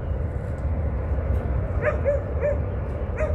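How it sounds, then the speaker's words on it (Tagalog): A dog barks several times in short, evenly spaced yips over a steady background rumble of traffic or an engine, on the Wan Chai promenade in Hong Kong. "Tumatahol ang aso."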